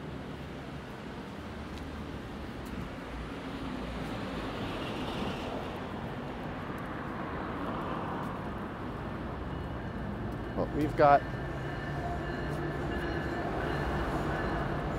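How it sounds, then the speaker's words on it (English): A freight train rumbles by out of sight, giving a low, continuous, distant drone. Brief clanks come partway through, and someone speaks briefly. "I can't see it, but there's a freight train rumbling by."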